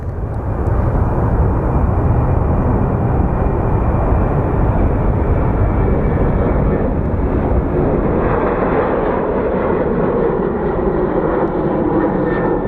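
An American AirCal Retro airliner arriving at Sky Harbor, a continuous loud broadband jet roar that stays steady throughout with no talk.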